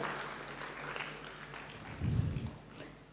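Applause from a graduation ceremony audience, moderate and steady with a noticeably louder burst of clapping near the end, heard as a mid-distance crowd with no clear talk over it.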